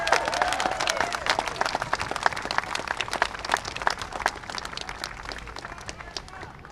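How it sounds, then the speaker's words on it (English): An audience at a mayor's downtown plan announcement gives a steady round of applause, many individual claps rattling evenly throughout at moderate loudness with a little crowd murmur underneath. "I want another round of applause for this."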